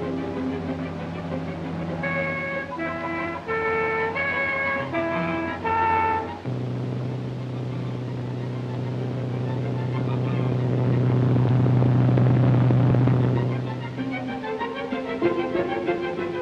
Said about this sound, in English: The cars use it. Little and big, quiet and noisy, all of them come.